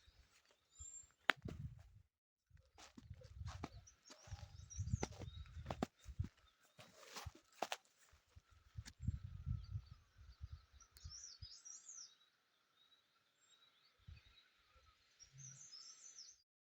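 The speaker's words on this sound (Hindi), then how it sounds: "हर तरफ यहाँ पर चिड़ियों की चहचहाने की आवाज़ें हैं" Birds chirp in a village in the early morning, giving faint, thin calls and twitters at a distance, with occasional nearby thumps and rustles in between.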